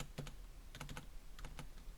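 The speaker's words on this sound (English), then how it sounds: "Sorry for the sound of the keyboard. I have quite loud keyboard." A loud computer keyboard is typed on in short clusters of sharp, clacky keystrokes separated by brief pauses, close to the microphone with a faint background hum and no speech.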